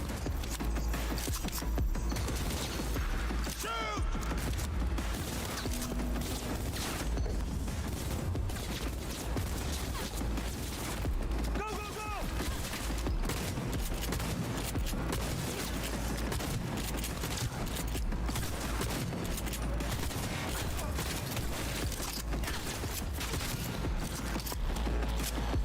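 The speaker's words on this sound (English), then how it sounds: "You guys are shooting the fuck out of me." Rapid gunfire in an online video game, with dense, continuous bursts of shots crackling throughout, loud and close, with brief louder reports now and then and no clear talk.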